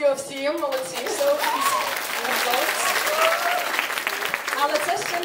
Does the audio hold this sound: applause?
yes